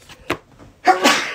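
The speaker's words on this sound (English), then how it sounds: "Did not sneeze into my hands." A single sharp human sneeze, near and loud, preceded by a small sharp intake or catch of breath and trailing off over a moment.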